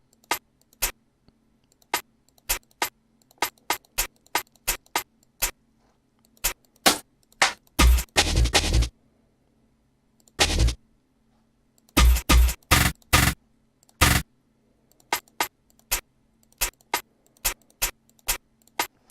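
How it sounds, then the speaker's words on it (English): Programmed hi-hat rolls in a DUBturbo 2.0 jungle beat: crisp, dry ticks in an uneven, scattered pattern, broken by dense rapid roll bursts, a few with a low thump underneath. "I like to start with my hi-hats just to do my little rolls."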